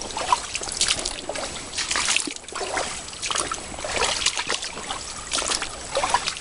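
Water runs steadily through a gold prospecting sluice set up in a stream, a continuous close trickling and sloshing wash with no voices.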